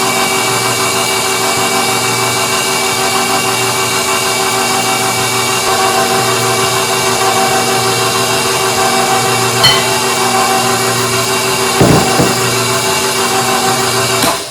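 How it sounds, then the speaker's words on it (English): An electric mixer beats lemon blueberry pound cake batter, a loud steady motor whine that holds constant throughout, with a couple of brief knocks against the bowl near the end. "We're gonna mix a little at a time."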